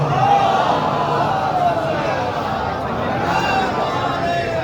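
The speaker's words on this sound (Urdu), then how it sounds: "ایک باوازے بلند نعرے سلوات پڑھے بالکل." A large crowd at a religious celebration in Qom, Iran, chanting salawat loudly in unison, a thick and continuous swell of many voices with cheering mixed in throughout.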